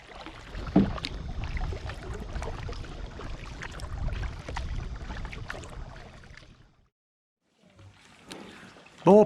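Paddles splash and churn the water as a kayak or canoe is worked along on the sea, a steady close-up sloshing for about six seconds before a brief quiet and a burst of water noise again.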